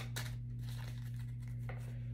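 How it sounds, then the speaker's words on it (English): A deck of tarot cards is shuffled on a table in a couple of short, faint papery bursts over a steady low electrical hum. "One last shuffle, whatever lands on the table."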